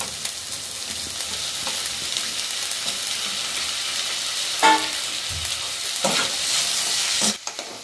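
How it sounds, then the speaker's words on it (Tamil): Tomatoes frying in a pan with eggplant for a mixed vegetable chutney: a constant close sizzle with scraping stirs of a spoon and a couple of sharper clatters against the pan near the end. "இப்போ அடுத்தது தக்காளியை போட்டுக்கலாம்."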